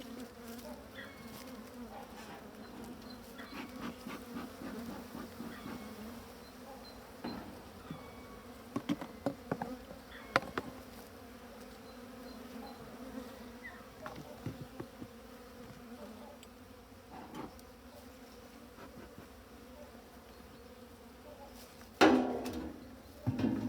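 Honeybees drone steadily in an opened hive at season's end, a continuous close buzz interrupted by occasional knocks and clatters of hive parts, with a louder thud near the end.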